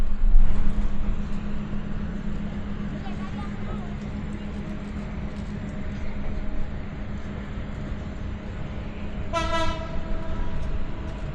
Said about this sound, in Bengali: ট্রেনটা কমলাপুর রেল স্টেশন থেকে ছাড়া হলো